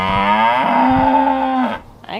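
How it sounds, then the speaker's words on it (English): A farm cow lets out one long, loud, low moo at close range that trails off, followed by a brief rustle. "we're gonna see if we can find a cow to pack, because she sounds really low"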